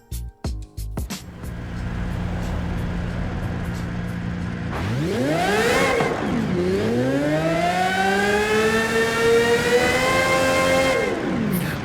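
A 2022 Aston Martin Valkyrie AMR Pro in Forza Horizon 5 revving hard, a loud, piercing high-pitched engine wail that climbs, dips sharply with a gear change, then climbs and holds at a screaming pitch, after a few brief clicks at the start.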